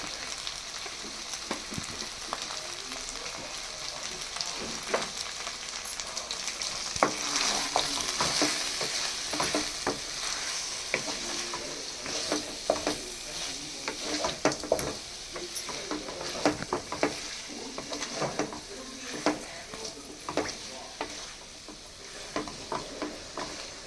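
Dosa batter cooks on a hot pan with a steady close sizzle and crackle. Scattered scraping and tapping sounds run over the frying throughout, with no speech.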